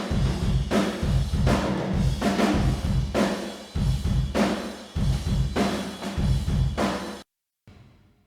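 Combined drum room tracks in a rock mix, with big kick and snare hits in a steady repeating pattern and wide ambient wash, loud for about seven seconds before cutting to near silence with a faint tail.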